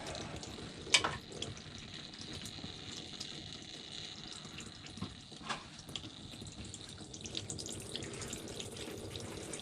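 Fluid drains from a John Deere 650 compact tractor engine, a continuous faint trickling and splashing with occasional drips and small clanks, steady and close throughout.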